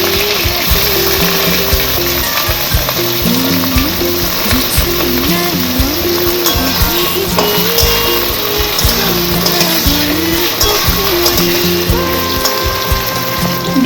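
Eggplant hisses and sizzles in hot oil with slit green chilli and black cumin seeds, a loud continuous frying crackle with scraping stirring noises throughout, no talk.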